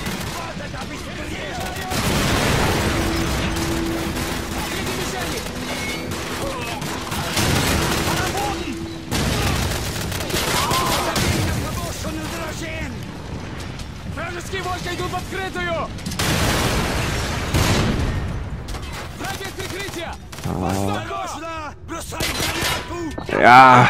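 Call of Duty 4: Modern Warfare single-player combat brings repeated bursts of rifle and machine-gun fire with explosive booms. Someone talks over the shooting in German, and loud shots cluster toward the end.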